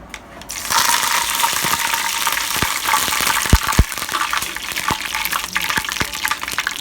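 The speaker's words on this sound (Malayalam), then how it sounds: "വെളുത്തുള്ള കടുക് പൊട്ടാൻ തുടങ്ങിയിട്ടുണ്ട്" Mustard seeds splutter in hot oil for a Kerala fish curry close by: a constant sizzle scattered with sharp pops and crackles, with no talking.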